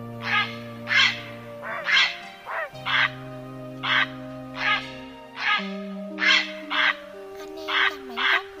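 Grey heron giving harsh, croaking calls, about a dozen short, loud bursts repeating at a fairly steady pace over a sustained tonal drone in the background.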